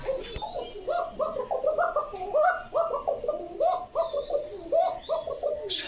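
Several pigeons at a pigeon loft in Bogura coo repeatedly in overlapping rhythmic phrases, fairly close and steady, with a few faint chirps and bird calls in the background.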